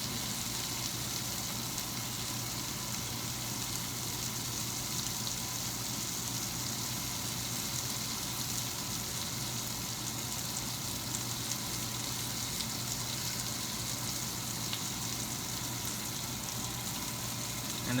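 Two bacon strips fry in a single pan with a steady, even sizzle and crackle that holds for the whole stretch, close and moderately loud, with no talking.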